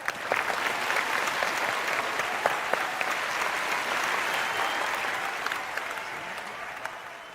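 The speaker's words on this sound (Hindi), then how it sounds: "तालियां। तालियां।" A crowd claps steadily and fairly loudly for several seconds, a dense wash of applause that fades only slightly toward the end, with no speech over it.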